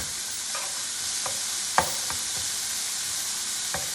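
Cauliflower rice and shrimp stir fry sizzling over high heat, a steady bright hiss of frying with a few sharp pops and spatters, close and continuous throughout.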